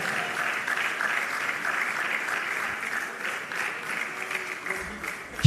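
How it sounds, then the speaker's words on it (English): Sustained crowd clapping at a retail industry awards ceremony for So Fresh Limited, a steady hall-filling patter that holds evenly for several seconds, tapers slightly, then ends on a sudden close bump. "Keep the applause coming."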